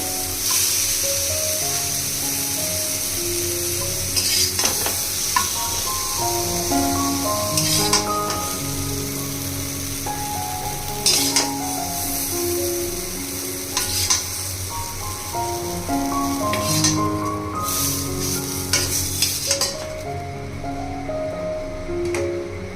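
Pumpkin pieces fry in oil in a wok with a steady, close sizzle that lasts the whole stretch. Stirring clatters and scrapes come and go, and a tonal background plays underneath.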